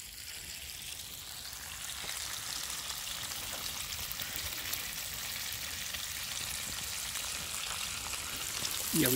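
Bacon frying in a pan at an outdoor overnight campsite breakfast, a steady soft sizzle and crackle running continuously and fairly faint throughout, with no one speaking.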